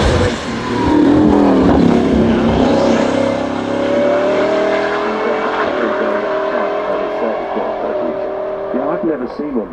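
A racing car drives the Goodwood Festival of Speed hill climb at speed, its engine rising and falling through gear changes, loud and close at first and then fading slightly, while a commentator talks over it.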